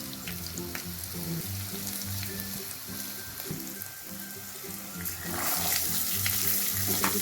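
Spices, garam masala, red chilli powder, salt and Maggi masala frying in oil for mini samosa filling, a steady close sizzle that grows louder near the end, with faint low kitchen hum beneath.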